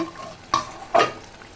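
Chicken pieces being stir-fried kosha-style in a pan: two distinct scraping stirs of the spatula, about half a second apart, over a faint, steady background sizzle, with no talking.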